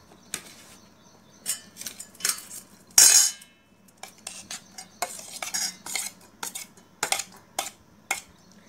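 Chopped onion, tomato, cucumber and green chili tossed together in a bowl, giving irregular bursts of clattering spoon-on-bowl scrapes and clinks, close and fairly crisp, with short quiet gaps between strokes.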